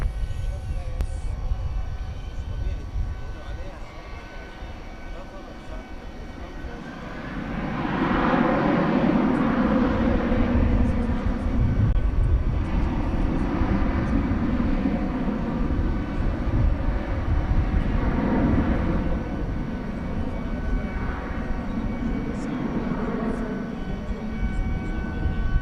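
An American Airlines A300 takes off at night from a DFW runway, a distant jet roar swelling and holding steady over a faint background hum, with a radio voice audible underneath.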